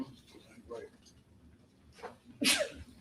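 One loud, sharp sneeze bursts out near the end, after a stretch of quiet murmuring talk.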